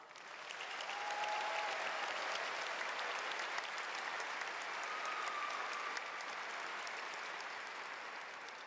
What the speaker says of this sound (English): join me once again in recognizing the varied accomplishments of all of the amazing students graduating today with another round of applause